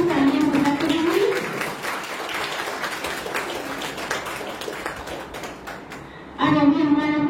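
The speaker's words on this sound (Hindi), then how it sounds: "आप लोग तालियां बजाते रहिए" Audience clapping at an NCC/scout gathering in India, a steady scattered patter of many hands with voices mixed in, briefly joined by a tonal voice or music at the start and end.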